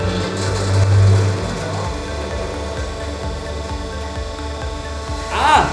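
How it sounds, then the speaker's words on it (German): A water turbine in the AÜW hydropower plant spins up and drives a generator through a gear, giving a steady mechanical hum with tonal whine that swells briefly near the end. "Und dann setzt sich die Turbine in Bewegung"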